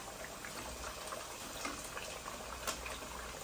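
Sweet potato and taro pieces frying in a pan give a soft, steady sizzle that stays even throughout, heard alone at low volume.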